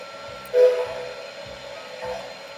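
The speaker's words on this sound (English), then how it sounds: "you could use the various sound effects that come with MTH Proto Sound locomotives" MTH Proto Sound model locomotive sound effects: a short whistle-like tone over a steady mechanical hum, with rhythmic low chuffing pulses repeating throughout.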